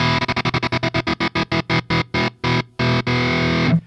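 A Graphene effects unit's stutter chops a distorted sound into rapid repeating bursts that gradually slow and lengthen before ending in one sustained tone, loud and dry.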